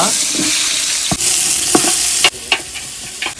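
Sliced onions frying in sunflower oil with cinnamon and cardamom in a pan, a steady loud sizzle broken by several sharp scrapes and clanks of a spoon stirring against the metal.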